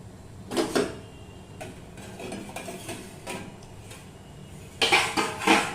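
A metal lid is lifted off a cooking pot to check steamed paneer bhapa on a gas stove, giving a few clinks and scrapes of metal, with a louder clatter near the end.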